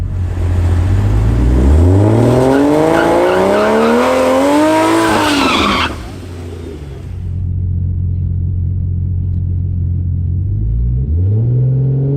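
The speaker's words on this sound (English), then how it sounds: "I'm gonna try doing a little burnout to get some of the dirt off the tires" A Barra-swapped Ford GT350 doing a burnout at the drag strip: the engine revs hard and climbs with screeching tyres for several seconds, cuts off, then settles into a loud, lumpy idle before revving again.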